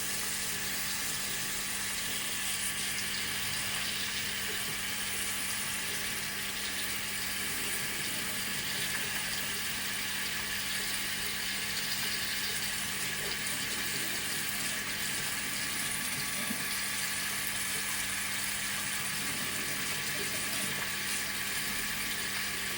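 Hot water runs steadily from a bathroom basin tap, a constant broadband hiss and splash with no change in level throughout, fairly faint and close.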